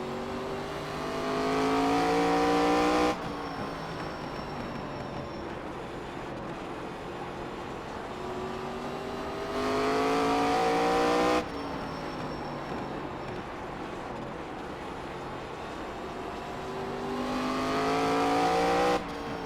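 ARCA stock car engine in iRacing lapping Langley Speedway, a continuous loud drone rising in pitch as it revs through the straights, dropping abruptly and climbing again in repeating cycles, no talking.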